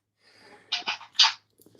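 A person sneezes in a quick burst of sharp bursts after a short indrawn breath, close and fairly quiet, followed by faint movement.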